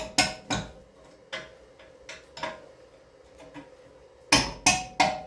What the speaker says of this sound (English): give it a good whack just to loosen everything up